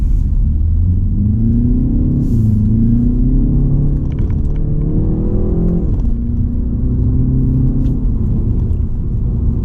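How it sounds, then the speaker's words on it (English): A 2019 BMW 330i G20 M Sport engine in Sport Plus mode drones loudly and steadily on an uphill road, its pitch climbing as it accelerates, dipping at a gear change, then building again. "In Sport Plus, the engine sound gets a bit more urgent, so it sounds faster than it's actually going."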